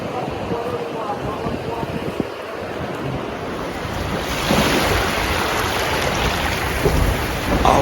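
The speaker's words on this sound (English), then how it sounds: "Here is the beach, the Lal Kakra Beach." Ocean surf rolls in steadily at Lal Kakra Beach at sunrise, a dense continuous wash of breaking waves and wind that swells louder partway through, with no voices.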